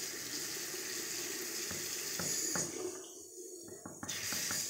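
Tap water runs steadily into a sink with a constant hiss and splash, briefly interrupted and changing tone near the end.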